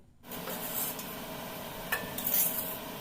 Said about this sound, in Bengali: এক বাটি সামাই ঘিয়ের মধ্যে দিয়ে দিলাম ভালোভাবে লাল করে ভেজে নিব